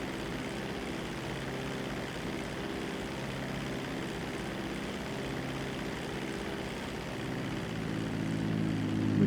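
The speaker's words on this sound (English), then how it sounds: "We're flying at almost exactly 100 miles an hour. When we're on full throttle." Seaplane engine droning steadily at full throttle in flight, a continuous loud propeller hum that holds level and swells slightly toward the end, with no voices.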